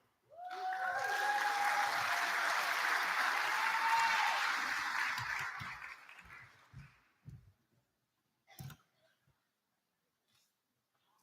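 An audience at a graduation ceremony bursts into applause for a candidate, a dense crowd clapping that holds steady for several seconds, then fades out into scattered thumps and a few isolated handling noises.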